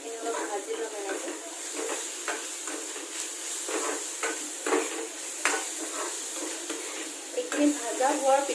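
Garlic, turmeric and cumin fry in hot oil in a pan for a fish dish, a steady close sizzle broken by repeated scraping stirs of a spoon, with a voice talking over it.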